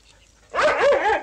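A single dog gives a short, loud bark close by in a forest scene from a 1965 film, rising and falling in a brief yelping burst.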